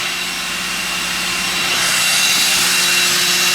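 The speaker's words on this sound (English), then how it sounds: "Mark has a nice little transfer pump set up" A transfer pump fitted with a filter and hydraulic hoses pumps oil into an engine, giving a steady, loud mechanical whir and hiss that holds constant and swells slightly partway through, with no talking.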